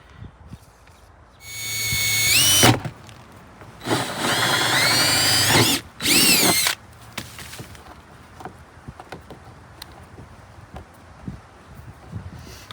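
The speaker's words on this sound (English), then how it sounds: "so I can drill this hole, put this bulkhead in" A power drill bores a hole for a 3/4-inch through bulkhead fitting on a rainwater catchment setup. Three loud, close whining bursts of drilling are separated by short pauses, with quieter handling clatter afterward.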